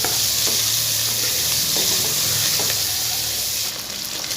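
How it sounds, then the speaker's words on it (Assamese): Onions frying in a pan for shahi paneer, with a dense close sizzle throughout and occasional soft stirring strokes. "এয়া পিঁয়াজখিনি মই ভাজি আছোঁ,"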